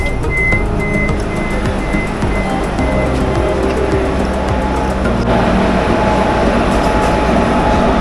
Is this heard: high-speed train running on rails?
yes